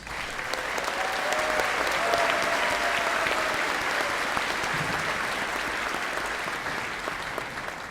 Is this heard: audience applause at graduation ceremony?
yes